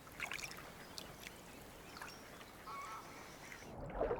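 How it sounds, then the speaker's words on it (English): A Eurasian coot on a reservoir gives a few faint, short honking calls over a soft wash of open-water ambience, with one slightly louder call near the end. "The adaptable Eurasian coot is almost ubiquitous in reservoirs."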